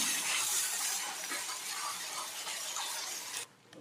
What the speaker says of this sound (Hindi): आणि आपली प्युरी पण छान फ्राय करून घेऊया